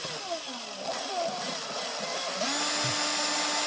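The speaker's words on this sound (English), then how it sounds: "I start drilling kind of slowly, making sure everything's lined up how I want it to be" A power drill whirs at low, uneven speed, its motor pitch rising and steadying, fairly close with faint background noise.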